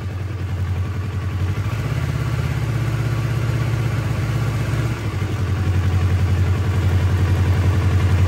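A motor engine runs steadily at about 1000 RPM during a magnet coil test. The idle is loud and close, with an even low rumble and a slight rise in pitch partway through, and no talking.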